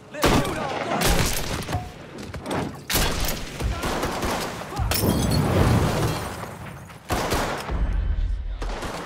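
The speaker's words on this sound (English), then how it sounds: "Let's shoot all the guns!" Loud, sustained gunfire in the Mafia III video game, dense volleys and shattering impacts filling nearly the whole stretch with only brief dips between bursts.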